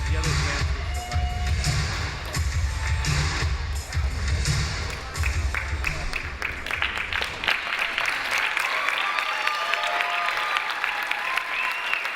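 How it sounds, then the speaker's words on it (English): Audience applause for Jalen and Jennifer Thayer at a Los Angeles charity rally for kids with cancer, a dense, steady clapping that fills the room, with crowd noise and a few voices mixed in. "please give a big round of applause for Jalen and Jennifer Thayer"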